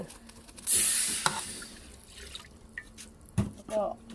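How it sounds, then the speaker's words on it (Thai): Water poured from a glass into a frying pan while making Thai pork rinds: a brief splashing pour with a hiss, followed by a few drips and light clatter in a kitchen. "นี่เอาน้ำใส่ลงในกระทะเลยค่ะหนึ่งแก้ว"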